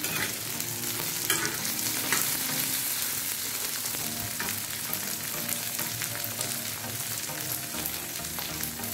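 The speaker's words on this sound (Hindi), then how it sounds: "अब भिंडी को फ्राई कर लेते हैं" Okra (bhindi) frying in hot oil in a karahi, a dense, steady sizzle with light stirring scrapes, close and continuous with no talk.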